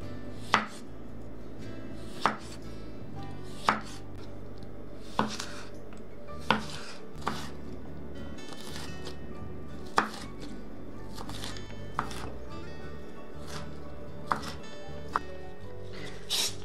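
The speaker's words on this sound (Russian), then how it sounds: "Огурец нарезать соломкой." Sharp knife chops on a cutting board as a cucumber is cut into julienne strips, spaced a second or two apart, close and crisp, with no voices.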